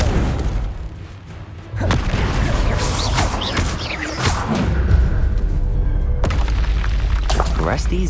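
Confringo blasting-spell explosions in the video game Hogwarts Legacy, a series of heavy booming bursts and crashes layered over battle noise, with a character's voice shouting during the fight.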